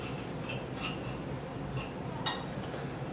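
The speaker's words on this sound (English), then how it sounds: "We whisk that all together." Eggs seasoned with salt and black pepper being whisked in a bowl, faint, light clinks and ticks of the whisk against the bowl at an uneven rhythm, close by and with no talking.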